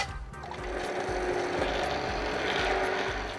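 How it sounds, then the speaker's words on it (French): A blender whirs steadily, churning cooked foie gras and lentils into a purée, with a rhythmic mechanical rattle and hum carrying loud and close throughout. "Maintenant, on va mixer le tout"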